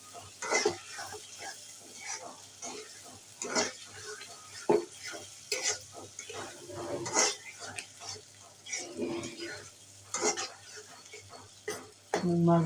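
Boneless fish belly pieces are stirred into a spice masala in a pan, giving a busy sizzle with frequent utensil scrapes and clinks, close and lively, with some speech in the clip.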